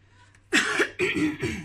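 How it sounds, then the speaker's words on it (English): A close, throaty cough followed by a second throat-clearing cough, with near silence before. "Just one moment while I try to clear my throat"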